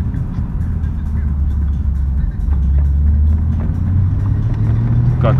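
An Audi 2.6 ABC engine with a variable-geometry intake manifold accelerates in second gear from about 40 km/h, a deep, steady drone heard from inside the car that climbs slowly in pitch as revs rise.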